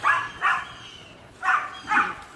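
A pet dog barking four times in pairs at home, close and fairly loud, with short gaps between the barks and no other sound over them.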